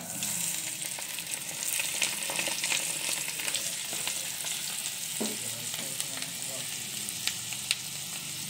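Boiling hot oil poured over crushed garlic and chili in a bowl, giving a steady, close, dense crackling sizzle that fills the whole stretch with a few sharper pops and clinks.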